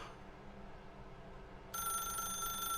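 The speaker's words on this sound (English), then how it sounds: "pick up the phone" A telephone starts ringing in the video game The Stanley Parable, a bright electronic ring that cuts in suddenly partway through over a low steady ambient hum, fairly loud and continuing to the end.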